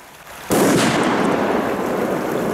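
A firecracker ignites with a sudden loud burst that settles into a steady, roaring hiss as a pretty flare burns on, close and continuous for the rest of the moment, with no talking.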